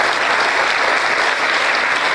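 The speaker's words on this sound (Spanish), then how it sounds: "yo les pedí un aplauso" Loud, dense audience applause at the inauguration of a multi-sport court at a CBTIS 81 school campus, continuous clapping from a crowd sustained throughout before ending abruptly.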